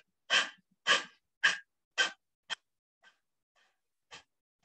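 Rapid yogic breath of fire, forceful exhales pushed through the nose in a quick run of five strong bursts, then a few fainter, softer breaths trailing off, close and alone with no talk.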